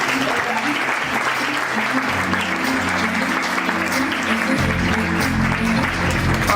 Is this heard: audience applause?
yes